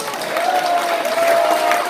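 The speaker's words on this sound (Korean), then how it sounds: "여러분 그분들을 위해서 박수 부탁드립니다" Audience applause at a symposium fills the hall, a steady dense wash of clapping with a faint sustained tone running beneath it.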